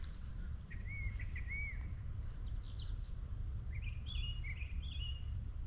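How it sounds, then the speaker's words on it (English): Several short, bright bird chirps and whistled phrases ring out in bursts at a campground on Jekyll Island, over a constant low outdoor rumble. "The birds are singing."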